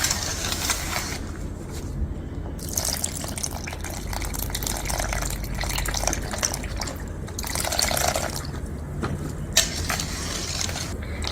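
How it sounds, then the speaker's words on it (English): Milk poured a little at a time into a pot and whisked to remove lumps, giving a steady close liquid swish and metallic whisk scraping that runs through the whole stretch with brief bright splashy bursts. "We pour in a little at a time and whisk in nicely."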